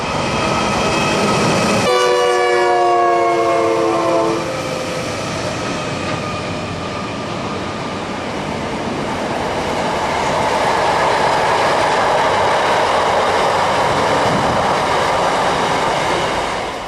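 An Adelaide Metro broad gauge train passes on the Gawler line, giving a loud horn blast early on, then a long, steady roar of wheels and carriages rolling by.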